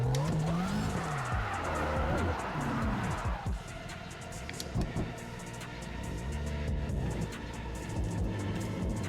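A sim racing game car spins its wheels out in second gear under full throttle, engine revving and rising and falling continuously with tire squeal layered throughout, loud and close.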